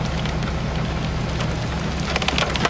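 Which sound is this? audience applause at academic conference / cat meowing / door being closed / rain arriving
rain arriving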